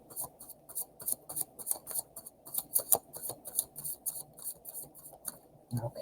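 Deck of playing cards being shuffled by hand up close, a quiet run of crisp riffling flutters and taps coming in short rapid bursts.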